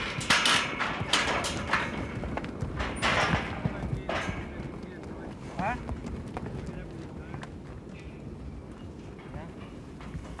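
Wild North American mustangs shifting and stepping around a holding area, with irregular hoof clatter and knocks, busier early and thinning out later, mixed with scattered rustling and faint background voices.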